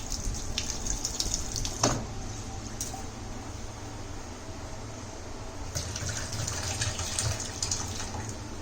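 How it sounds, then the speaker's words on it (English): Tap water runs steadily into a container, with splashing and swishing as rice grains are stirred and rinsed close by. "We'll wash it once again with the fresh water"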